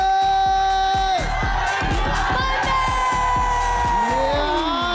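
A television studio audience at a Filipino variety game show cheers and shouts together, a loud, sustained crowd roar carrying whoops and yells over bright music-like tones.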